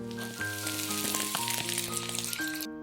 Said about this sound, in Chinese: 用油煎一下，怕散开就多揉一会儿